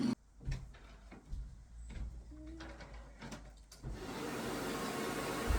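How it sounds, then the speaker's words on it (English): A vacuum cleaner switches on after a few knocks and clatters, then runs with a steady, loud whooshing roar. "It's time to get my vacuum cleaner."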